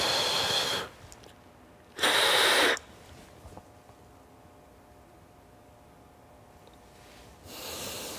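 A person breathing through a deliberate inhale-and-exhale exercise, with two strong rushing breaths close to the mic early on, a long quiet hold, then another breath starting at the end.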